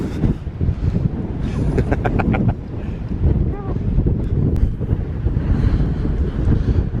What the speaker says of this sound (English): Windy Hunstanton.